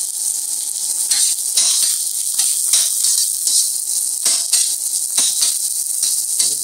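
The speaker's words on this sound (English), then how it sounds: "first thing we're going to add to our oil is 4 shallots that we grew here on the farm" Four farm-grown shallots frying in hot oil, a loud, bright, close sizzle that runs continuously, swelling in bursts as the pieces are moved around, with no talking.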